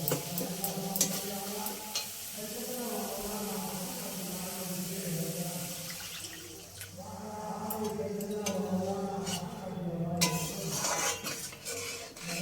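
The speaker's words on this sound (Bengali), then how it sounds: "মশলাটাকে আরেকবার ভালো করে নেড়ে চেড়ে এবারে জল দিয়ে দেবো। আমি এখানে গরম জল দিচ্ছি" Spice paste for a tangra fish curry sizzles in a pan as hot water goes in and a utensil scrapes and stirs, with steady bubbling fry noise and clinks of metal over it, fairly close.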